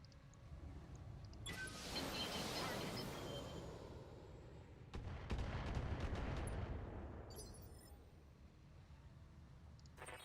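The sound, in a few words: mech weapons gunfire in Battletech video game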